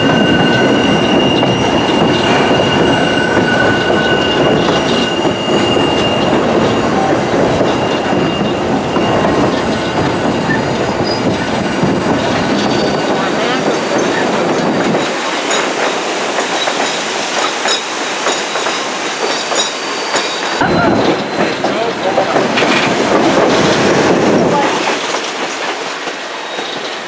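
A train crossing a trestle in Alaska, with loud, continuous rumbling wheels, squealing and clattering on the rails heard from on board, briefly dipping before fading slightly at the end.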